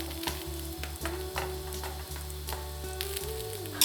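A quesadilla fries in butter in a pan, a steady close sizzle running throughout with soft scraping and clicking of a utensil against the pan.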